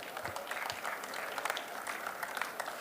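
An audience at an automotive innovation awards ceremony at Equipauto Lyon gives sustained, dense applause that fills the room evenly from start to finish.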